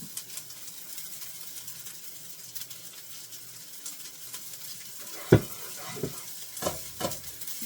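Frozen potatoes fry in oil in a pan with a steady soft sizzle, broken near the end by several sharp scraping stirs of a utensil, close and moderately quiet.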